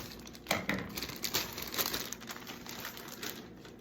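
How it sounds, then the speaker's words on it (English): Close, faint crinkling and rustling of a plastic bag of slaw being handled and pulled open, irregular crackles over a few seconds. "Let's open the bag of slaw if it don't burst open everywhere."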